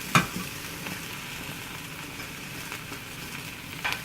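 Mushrooms sizzling in a pan of cooking onions: a constant close hiss with crackle, and light scraping or stirring knocks at the start and end, without talking.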